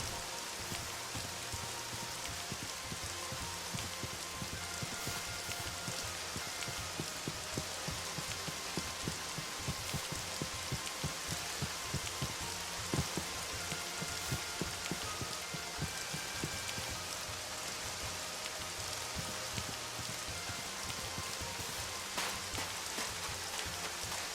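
Steady rain pours in the block-building survival game Terrafirmacraft, a dense, continuous patter of drops hitting surfaces that holds at an even level throughout with no voices.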